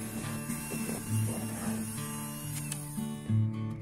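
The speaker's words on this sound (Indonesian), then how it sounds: "Kita mixer hingga tercampur rata." Electric hand mixer beating brownie cake batter in a bowl, a steady continuous whirring drone with slight shifts in pitch throughout, close and alone.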